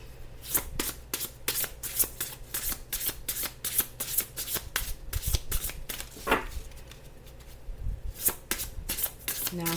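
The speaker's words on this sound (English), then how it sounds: "Let me see if I can get some oracle cards to kind of help us a little bit" Oracle cards being shuffled by hand in a steady run of crisp riffling flutters and soft slaps, close and clear with no talking over them.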